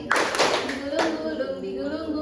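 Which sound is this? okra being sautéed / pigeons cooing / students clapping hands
students clapping hands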